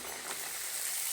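Dough frying and puffing up in oil that has not yet fully heated, giving a brief, steady, close sizzling hiss with no voices.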